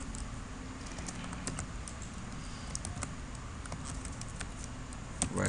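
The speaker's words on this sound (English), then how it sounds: "And now I type message" Computer keyboard typing while entering text in Microsoft Outlook 2016, a steady run of light key clicks over a constant low background hum, no talk.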